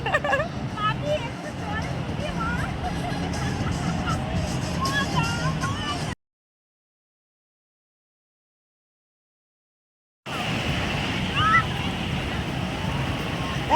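Sea waves at Digha beach wash steadily onto the shore, heard as a continuous surf roar mixed with wind and crowd babble, with a stretch of dead silence in the middle.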